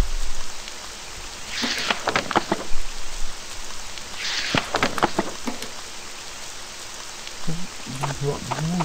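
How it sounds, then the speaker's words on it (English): Steady rain falls in a video game scene, a constant wash with a few brief louder gusts, while a person talks intermittently over it. "It's raining."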